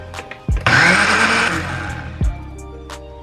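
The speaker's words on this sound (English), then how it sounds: "go ahead and put it in the blender" A blender whirs loudly for a couple of seconds, its motor roaring through okra, with a clunk before it starts and another as it stops.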